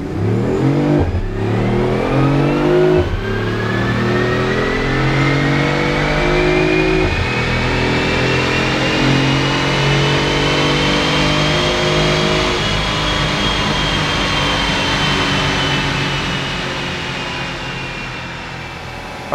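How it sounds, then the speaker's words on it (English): A BMW i8 hybrid runs at full throttle on a Mustang chassis dyno, its engine climbing steadily in pitch through the gears with a few shift breaks near the start. The sound is loud and close, then eases off at the end. "So the Mustang Dyno will give us a countdown and we can hammer through it, and we should see about 100 to 110 mile per hour run"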